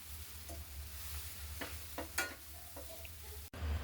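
A spatula stirs stale chapati churma in a frying pan, with soft scraping strokes over a steady close sizzle and a sharp knock near the end.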